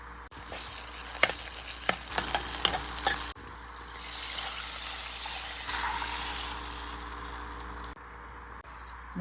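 Cooked toor dal (kandi pappu) mashed with a spoon in a pot, with a burst of sharp scraping clicks at first, then a soft steady wet rubbing hiss, close and fairly quiet, with no talk.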